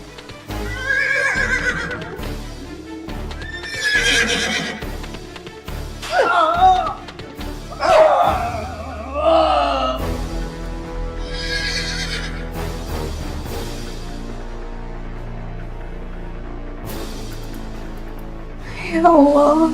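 A horse neighs loudly several times in shrill whinnies, with hooves clip-clopping and dramatic music underneath, ending in one more neigh.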